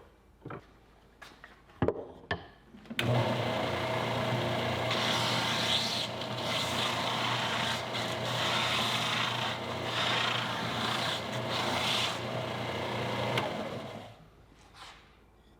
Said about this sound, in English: I've been on the belt sander rounding off these corners right on the end here